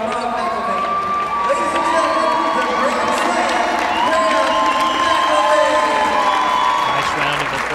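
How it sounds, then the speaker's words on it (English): A gym crowd applauds and cheers a senior player on Ball State men's volleyball Senior Day. Clapping blends with loud whoops and shouting voices, sustained and lively throughout. "Nice round of applause for the senior, Graham McIlvaine"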